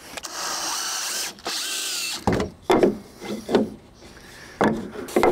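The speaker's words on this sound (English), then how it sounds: "I'm gonna just drive a few more screws." Power drill driving screws into wooden deck brackets during a DIY deck build, heard as several close, loud bursts of whirring and grinding separated by short pauses, with some wood rubbing between the bursts.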